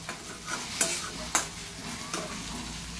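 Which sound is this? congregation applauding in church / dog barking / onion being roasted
onion being roasted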